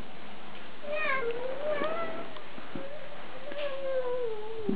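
A domestic cat meowing nearby, a few drawn-out rising and falling meows over a quiet room background, with no speech.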